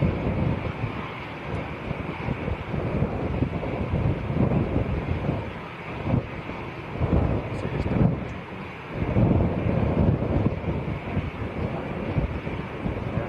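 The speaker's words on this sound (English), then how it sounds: "It's still blowing a gale. It's probably windier now than it has been all day." Strong gale-force wind gusting at an airport, buffeting the microphone with a continuous loud rushing roar that swells and eases in gusts.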